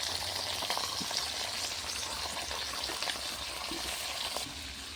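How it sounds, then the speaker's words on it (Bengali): Pumpkin, beans and cauliflower stalks frying with turmeric and salt on a clay stove, a dense continuous sizzle close up with occasional light stirring scrapes, easing slightly near the end, no voices. "দেবো হলুদ গুঁড়ো আর দেবো নুন দিয়ে সবজিগুলো ভালো করে ভেজে নেবো"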